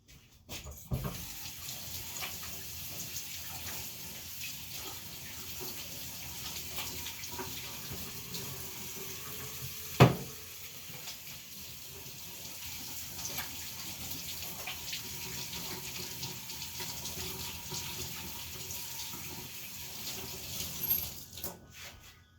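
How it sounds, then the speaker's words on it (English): Tap water running steadily into a sink while hands are washed, a continuous close splashing rush lasting the whole stretch with one brief knock midway and faint voice in the background. "I'm going to give my hands a quick wash"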